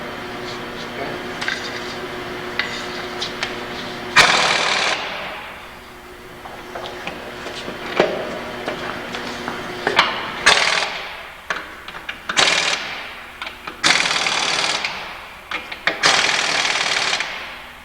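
An impact wrench runs in several short bursts of rapid hammering while wheel nuts are tightened on cast spoke wheels, close and loud, with someone talking between the bursts.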